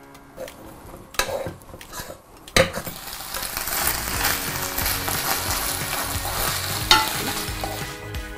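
Cream and butter get stirred through in a pan beside carrots, with an even sizzle broken by clinks and scrapes of a utensil against the metal, and a few louder knocks near the start.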